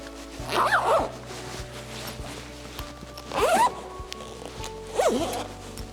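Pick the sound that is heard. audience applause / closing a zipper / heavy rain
closing a zipper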